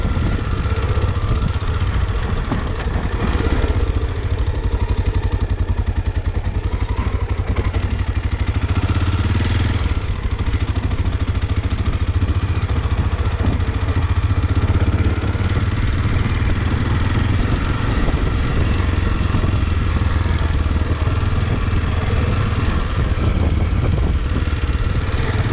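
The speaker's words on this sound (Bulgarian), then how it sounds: "Това му е силата на този мотор." A motorcycle engine runs continuously on a trail, a loud, close, steady mid-pitched drone with some mechanical clatter, heard alone for the whole stretch.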